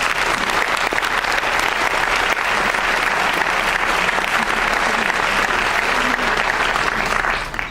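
Film festival audience applauding after a screening of a documentary, a dense, sustained clapping from a large crowd that stays loud and even throughout before tapering at the very end.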